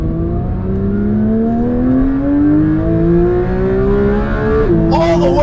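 Porsche 992 GT3 engine revving hard toward 9,000 rpm, a rising howl that climbs steadily for several seconds before dropping off at the shift near the end, loud and close.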